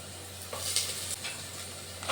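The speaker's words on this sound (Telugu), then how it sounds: "ఇప్పుడు మనం కొంచెం కరివేపాకు వేసుకుందాం." Curry leaves, added to oil with onions and turmeric for a tomato chutney, give off a quiet, steady sizzle. A few faint stirring scrapes are heard nearby, and there is no talking.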